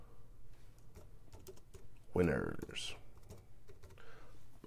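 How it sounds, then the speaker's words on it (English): A computer keyboard is typed on in quick bursts of soft, close clicks, with a voice speaking briefly partway through. "Typing it in right there."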